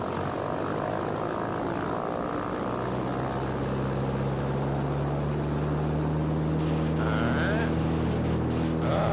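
A Piper Super Cub's propeller engine swells steadily as power is eased in for takeoff, a loud, continuous drone that rises in pitch and fills the cabin throughout.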